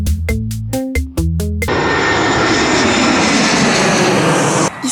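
Low-flying airplanes pass close to a runway in the Spanish countryside, a loud continuous engine roar washing over the scene for several seconds after a brief burst of rhythmic wind-buffeting noise at the start.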